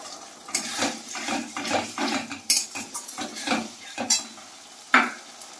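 Chopped tomato goes into a Bengali tangra fish curry simmering in a pan, followed by clattering spoon strokes and scraping against the pan over a soft sizzle, with a few sharp knocks, close up.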